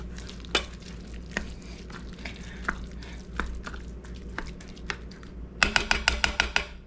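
A mixture being stirred in a pan, repeated scraping and clinking strokes at an uneven pace over a low steady hum, ending in a quick burst of rapid clinks.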